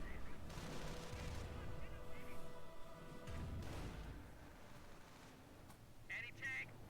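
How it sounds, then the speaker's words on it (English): Artillery shells landing in the Company of Heroes battle game: a steady rumble of distant explosions and gunfire rolling on, with a couple of heavier booms midway and faint chirps near the end. "Artillery landing on the Americans."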